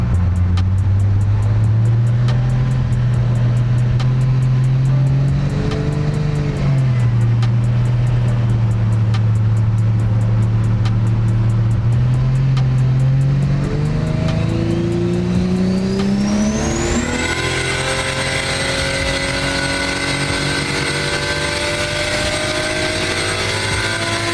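A turbocharged Holden Barra engine in a BA sedan makes a loud, continuous dyno pull, revs climbing steadily then rising sharply to a high, strained wail near the end, with turbo whine, no talking.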